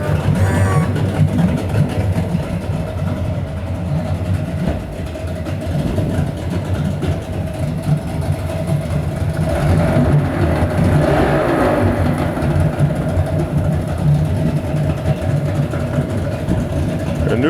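A 2003 Suzuki 150HP two-stroke outboard with a 25-inch shaft idles in a test tank, giving off a steady, loud, low rumble that holds unbroken throughout, with faint voices underneath.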